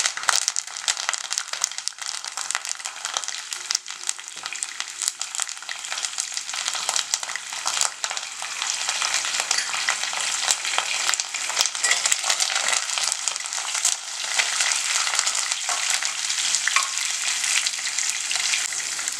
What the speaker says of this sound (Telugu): ఇందులో నేను ఆవాలు, జీలకర్ర, మినపప్పు, ఇంకా ఎండుమిరపకాయ వేసేసుకున్నాను. పోపు కొద్దిగా వేగాలి.